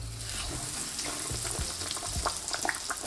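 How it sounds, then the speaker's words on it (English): A breaded chicken patty frying in hot oil, a dense, steady, bubbling sizzle throughout, close and even, with a few faint knocks and no voices. "Now this goes straight into the hot oil."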